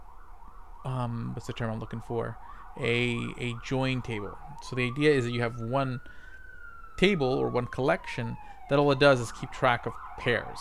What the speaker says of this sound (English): sorry for the sirens in my background